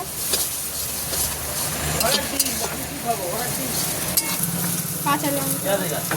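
Onion, garlic and ginger-garlic paste fry in a pan, giving a steady close sizzle with a spatula stirring and scraping, while people talk over the cooking.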